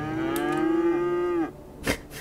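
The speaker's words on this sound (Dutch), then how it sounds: "Je hoort ook al die diertjes, hoor je dat? Varkens, koeien hoor je." A cow moos in a long, loud, sustained low call from the farm animals in Cities: Skylines, followed by a short fainter grunt-like sound, with no talk over it.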